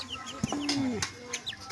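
A hen clucks softly to her chicks as she feeds them, with faint chick peeps and other bird chirps close by in a quiet outdoor setting.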